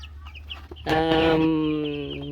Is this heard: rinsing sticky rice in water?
no